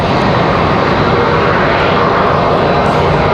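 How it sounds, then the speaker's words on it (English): A United Express jet operated by Mesa Airlines touches down on the runway at Raleigh-Durham, a loud, close, continuous engine roar with rushing air that holds steady over the short span, no voices heard. "Got a United Express hitting the runway here."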